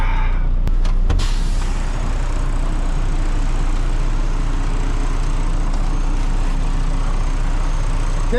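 A motorcycle engine catches after a single kick-start crank, with a couple of sharp mechanical clicks at the start, then settles into a loud, steady idle rumble that continues without a break.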